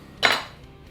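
A single sharp clink of a knife against a board or glass while a lime quarter is cut for a mojito, one brief bright hit then quiet.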